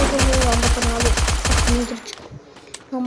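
Rapid automatic gunfire from the video game Free Fire rattles in quick bursts for about two seconds, loud and close, then cuts off to near quiet with a single late shot.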